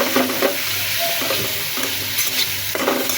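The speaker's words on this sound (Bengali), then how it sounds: "এটাকে ভেজে নিই সুন্দর করে।" Meat seasoned with salt, turmeric and cumin sizzles steadily in a hot pan, a close, dense frying hiss broken by the scrape and knock of stirring.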